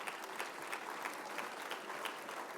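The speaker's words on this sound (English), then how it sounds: "Nice round of applause for them, if you would." A luncheon crowd at the Seaport Hotel in Boston gives a soft, distant round of applause for sponsors, a steady patter of many hands throughout.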